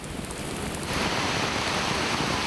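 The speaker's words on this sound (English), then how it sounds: "Here comes the rain." Heavy rain pours down in the Gabon jungle as a dense, loud, steady hiss that swells within the first second and continues unbroken.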